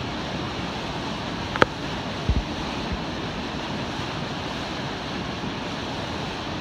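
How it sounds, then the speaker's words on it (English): Paterson Great Falls in New Jersey, a 77-foot waterfall, heard as a continuous broad roar of rushing water at a distance, steady with a few faint knocks and no speech. "Here we have the Paterson Falls in great old Paterson, New Jersey"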